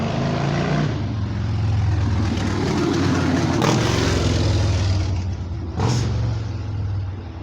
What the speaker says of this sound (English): you got a loud motorcycle that's going to come by or a loud truck